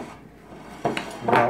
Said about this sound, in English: you can continue to kind of knead your butter